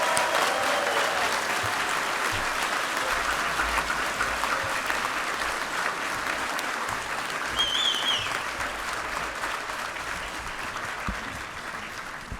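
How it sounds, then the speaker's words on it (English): Sustained applause for environmental health graduates at a 2016 College of Veterinary Medicine and Biomedical Sciences commencement in Colorado, a large crowd clapping steadily and evenly for over twelve seconds. "join me with a round of applause for our graduates in environmental health"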